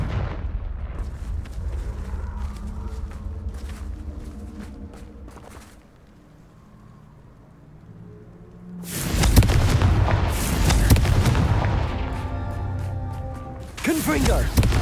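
The Confringo fire spell from Hogwarts Legacy goes off in loud, booming blasts that erupt suddenly after a quieter stretch and keep rumbling in heavy bursts to the end.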